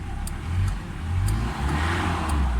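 A Mitsubishi Adventure engine revs in short moderate bursts, rising and falling close by without reaching full throttle, with no voices over it.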